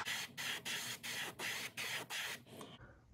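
Airbrush spraying black paint onto a fishing lure, a steady hiss in short bursts, about eight sprays with brief gaps, close and alone.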